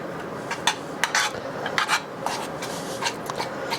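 A spoon works clotted cream and its skim together on the stovetop, giving soft, repeated scraping and stirring strokes against the pan over a low continuous hiss.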